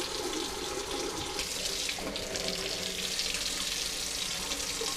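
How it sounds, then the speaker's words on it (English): Hot water from a tap pours steadily into a small bucket, a continuous close splashing and gurgling rush with no pauses. "get the water as hot as it'll get from the tap, and fill it up high enough in your little bucket"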